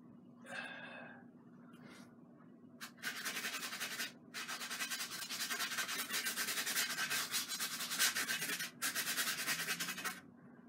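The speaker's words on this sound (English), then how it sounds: "So we're scrubbing it in sort of every direction we can" A paintbrush scrubs oil paint into canvas in close, dry scratchy bursts, several strokes separated by short pauses, with faint breathing early on.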